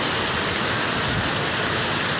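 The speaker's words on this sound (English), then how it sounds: "Port Harcourt rain." Heavy rain pouring steadily in Port Harcourt, Nigeria, a dense, loud, unbroken hiss of water hitting surfaces close by, with no voices.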